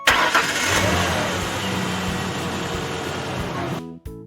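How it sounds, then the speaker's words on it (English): A truck engine roars up close, loud and steady with a dense rumbling drone, holding for several seconds before stopping abruptly. "This is the truck sound."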